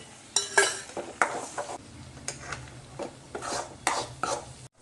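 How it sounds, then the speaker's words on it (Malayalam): Egg scrambled with ginger in a hot pan, with a spatula scraping and stirring in a series of short, fairly close bursts over a soft low sizzle. "ഇതിലേക്ക് നമ്മൾ എടുത്ത് വെച്ചിട്ടുള്ള മുട്ടയും കൂടെ ചേർത്ത് നമുക്കിനെ ചിക്കിയെടുക്കാം"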